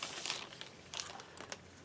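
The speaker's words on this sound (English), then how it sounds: "And inside the box here we got a knife inside a plastic bag." Plastic bag wrapped around a Ruike P801 folding knife crinkles in short, close, faint bursts, with a few separate rustles and crackles between quieter moments.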